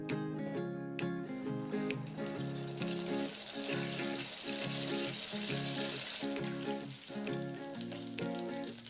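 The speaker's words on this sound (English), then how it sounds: "Cook in the fryer for 2 minutes until golden brown." Courgette and feta croquettes deep frying in a fryer, giving a steady, close sizzling crackle of hot oil throughout with a continuous bubbling wash, no voices present.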